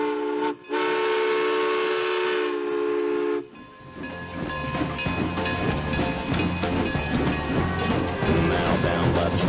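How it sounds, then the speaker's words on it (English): Steam whistle of the Durango & Silverton narrow gauge steam train, two loud sustained blasts separated by a brief gap, followed by the rhythmic chuffing and rumble of the train as it sets off nearby. "with the sound of the steam whistle, the D&SNG steam-powered train crossed West College Drive"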